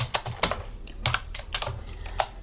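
Keys clatter on a computer keyboard in short uneven bursts, close and moderately loud, with no voices.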